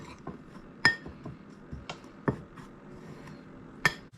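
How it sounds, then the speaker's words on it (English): Brown sugar mixture is stirred in a bowl, making sparse, quiet scraping sounds with a few sharp clinks of a utensil against the bowl, spaced irregularly. "we'll just combine that, stir it up."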